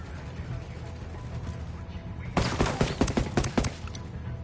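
Gunfire erupts in Ghost Recon Wildlands after a quiet stretch, a dense burst of rapid shots and rattling automatic fire that lasts about two seconds and then trails off.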